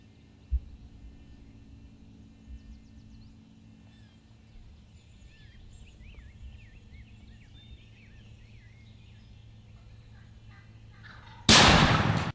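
A wild turkey gobbles several times at moderate distance in a quiet outdoor setting during a hunt, with faint birdsong around, then a single loud, close shotgun blast at the very end.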